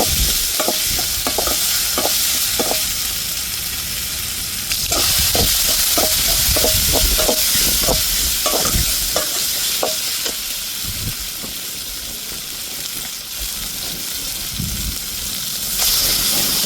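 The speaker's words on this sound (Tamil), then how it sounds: "இஞ்சி பூண்டை நல்லா பச்சை வர மார்க்கெட்டிங் வதக்கிடுவோம்." Ginger and garlic sautéing in a pan, a loud continuous sizzle with a spatula scraping and tapping in quick repeated strokes, no talk.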